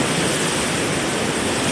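Water spills steadily over the edge of an old lock beside a river, a close, dense rushing roar that holds level without pause.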